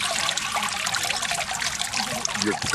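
Water trickles steadily off a handmade papermaking mould into a tub below, a continuous close splashing dribble of fibre-laden water, with a faint voice briefly underneath.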